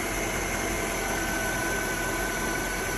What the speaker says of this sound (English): this engine is super smooth, runs beautiful